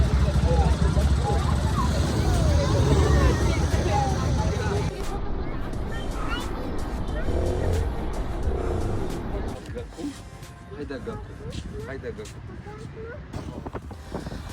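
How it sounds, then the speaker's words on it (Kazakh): Buses and other vehicles in busy Goa street traffic, a steady engine rumble and road roar with wind buffeting the microphone, easing slightly partway through. "Indian style автобустар"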